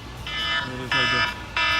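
A phone text message notification with an alarm ringtone buzzes in three harsh electronic bursts, nearby and fairly loud, over low background noise.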